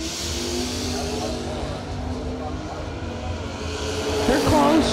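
Drag racing cars at a bracket race, including a 1987 Corvette, give a steady engine roar that swells toward the end under a track announcer's voice.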